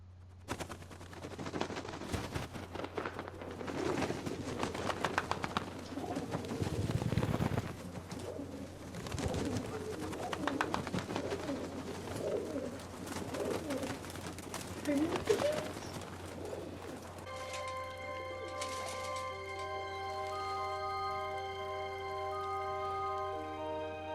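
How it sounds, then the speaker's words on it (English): A pigeon coos repeatedly in a scene from The Leftovers, mixed under voices and other scene sounds before a sustained musical tone takes over. "Bird."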